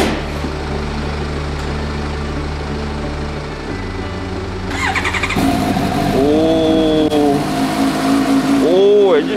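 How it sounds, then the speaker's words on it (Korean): A Suzuki GSX-S750 four-cylinder motorcycle is started for the first time: a steady background hum, then a starter crank and the engine catching with rising revs, close and loud, with a person speaking over it. "첫 시동을 제가 걸어보겠습니다"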